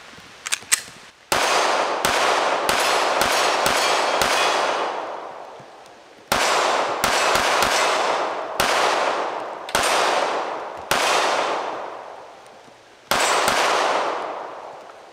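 A Springfield Echelon 4.0c Comp compensated pistol fires a magazine outdoors, loud sharp shots in uneven clusters of two to five with pauses, each followed by a long echoing decay, with no talking.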